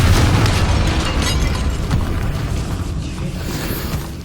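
An explosive Confringo spell blast from the video game Hogwarts Legacy, set inside a tomb, booms loudly at the start and then rumbles on in a sustained, slowly fading roar with no voices over it.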